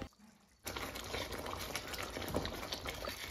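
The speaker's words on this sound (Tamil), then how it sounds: "சைடில் பார்த்தீங்கன்னா கிரேவி நல்லா கொதிக்க ஆரம்பிச்சிருச்சு" Eggplant gravy boils in a pot on the stove, starting after a brief quiet moment into a steady, close bubbling and popping that continues without pause.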